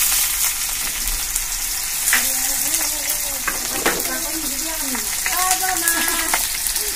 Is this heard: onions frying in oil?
yes